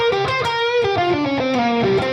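Electric guitar with distortion playing a short slide lick in a blues style, a gliding note sliding downward over sustained ringing strings, loud and close with no voices.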